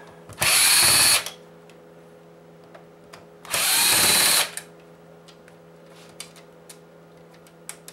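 A power driver backs Phillips screws out of a PS4 console during a teardown, giving two loud, close whirring bursts of about a second each, followed by faint ticks and small clicks of parts being handled.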